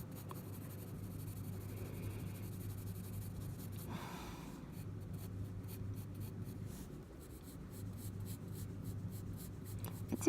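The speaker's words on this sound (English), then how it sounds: "all along I'm still using a 3B pencil" A 3B pencil shading on paper, a close, continuous soft scratchy scribbling in steady back-and-forth strokes with a few brief pauses, quiet and without talk.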